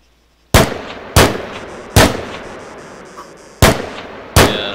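Modded gun in the Arma III game firing five loud, sharp single shots at uneven intervals, each with a short ringing decay, close and alone with no talk.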